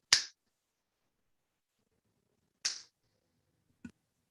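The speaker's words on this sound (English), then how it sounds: "Can you hear the gong speak when I snap my fingers?" Three crisp finger snaps in a gong room, two sharp bright cracks spaced about two and a half seconds apart and a softer, duller third, each dying quickly into near silence with no audible gong ring.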